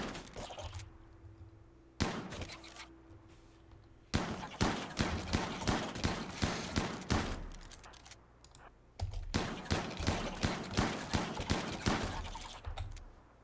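Colonists shooting in the video game Rimworld, a dense run of sharp rapid gunshots and clicks in repeated bursts with brief pauses between volleys, loud and close throughout.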